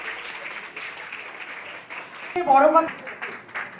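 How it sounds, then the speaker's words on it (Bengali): An audience at an award ceremony keeps up steady, moderate applause throughout, with a presenter's voice and a brief musical swell over the clapping partway through. "হ্যাপি করে করতালি হোক।"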